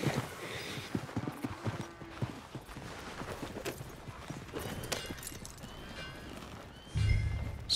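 Rhythmic clip-clop of horse hooves at a steady walking pace in Red Dead Redemption 2, fairly close, with a soft low thump near the end.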